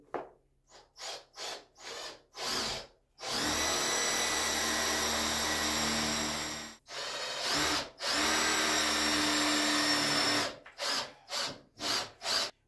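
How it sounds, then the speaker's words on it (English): An electric drill bores into main brickwork in two long sustained bursts, bracketed by short quick pulses of the drill starting and stopping. "You can also use an ordinary drill for that into main brickwork."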